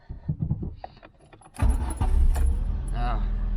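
Keys jangle softly, then a Peugeot 106 petrol engine with an upgraded fuel supply cranks and catches at once, settling into a loud, steady idle close by.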